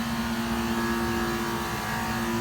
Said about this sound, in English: That's your generator here.